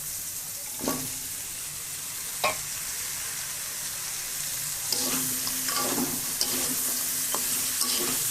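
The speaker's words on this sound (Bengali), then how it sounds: "এইভাবে আমি একটুখানি কষিয়ে নিয়ে" Chicken sautéing in oil in a pan, a continuous close sizzle broken by periodic sharp stirring scrapes and clanks, with no talking.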